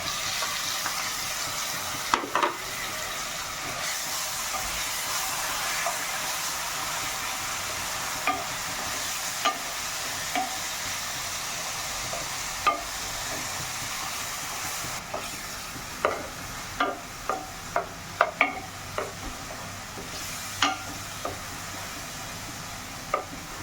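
Onion paste frying in a pan for paneer angara hisses with a steady, even sizzle while a spoon stirs it, scraping and knocking against the pan now and then, close and without talking.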